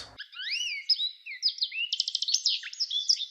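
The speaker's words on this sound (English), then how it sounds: "And males sing a long series of warbles and chirps." A male American goldfinch sings a long, lively series of high warbles, slurred whistles and rapid chirps, close and clear with no other sounds.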